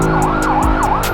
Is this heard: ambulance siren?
yes